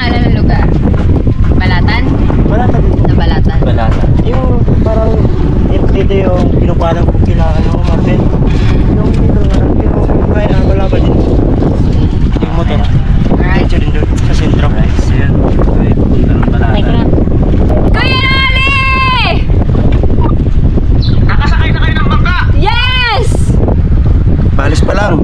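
Heavy wind buffets the microphone over a rumbling boat engine, with people talking and calling out intermittently throughout.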